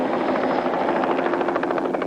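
A rescue helicopter passes overhead, its rotor thudding in a steady, loud, continuous pulse with engine whine, close and unbroken throughout with no voices.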